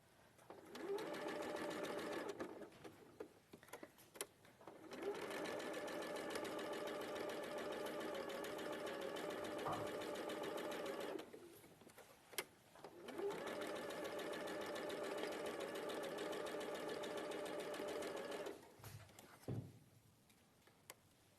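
A sewing machine runs a quarter-inch seam in long steady bursts of fast, even stitching, pausing briefly between runs with small clicks and handling noises in the gaps.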